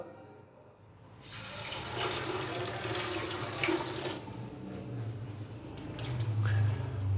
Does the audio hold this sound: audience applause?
no